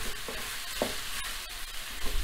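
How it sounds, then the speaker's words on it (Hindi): Sweet corn being mixed into a potato filling in a pan, soft irregular spatula scrapes and light taps over a low sizzle, close by and without voices. "इसको भी इसमें अच्छी तरह मिक्स करके"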